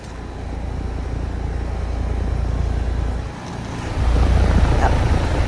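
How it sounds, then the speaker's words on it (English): Trane XR14 heat pump with an LG scroll compressor running outdoors at night, a loud steady low rumbling hum with broadband whoosh, dipping briefly then swelling louder for the last seconds. "LG scroll compressor."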